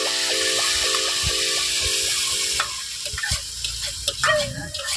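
Food is stirred in a cooking pot over a gas stove, a steady scraping and swishing that runs for a few seconds against a hum, then gives way to scattered clinks and rustles.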